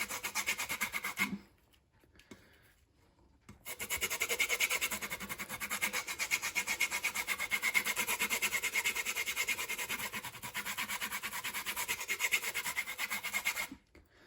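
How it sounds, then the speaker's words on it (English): Citrus peel grated on a zester in a home kitchen makes a fast, steady rasping scrape, close and continuous apart from a short pause near the start. "It smells amazing when you're zesting fruit."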